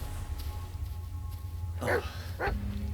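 A dog in the Blair Witch video game gives two short barks or yips near the end, set against a dark, rumbling ambient background.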